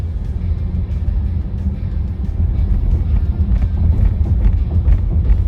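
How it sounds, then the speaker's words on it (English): Heard from inside a moving car, tires roll over rumble strips, producing a continuous low, rough drumming that grows slightly louder toward the end. "hitting the little bumps on the side of the road that make a loud sound"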